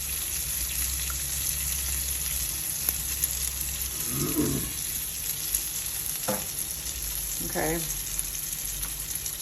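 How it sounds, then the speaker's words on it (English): Prosciutto ham sizzles in a hot pan with a constant frying hiss, broken by a few clattering stirs and one brief spoken word. "this is the prosciutto ham sizzling."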